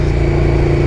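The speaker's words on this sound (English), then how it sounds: "I was deliberately accelerating quite hard" KTM 1290 Super Duke R motorcycle accelerating hard, a loud, close, continuous engine roar with strong low rumble and a steady tone throughout.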